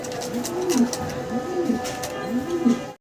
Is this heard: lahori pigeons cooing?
yes